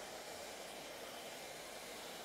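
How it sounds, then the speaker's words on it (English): Hair dryer blowing across hair, used from underneath on a razor-cut, textured style, a constant broadband whoosh that holds steady throughout with no talk. "when I use my hairdryer like this underneath"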